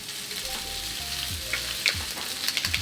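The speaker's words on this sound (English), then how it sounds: "So now I'm supposed to add pork and the Southwest spice with the veggies." Pork, Southwest spice and vegetables fry in a pan with a steady close sizzle, brief stirring scrapes and a few sharper pops, heard alone without talk.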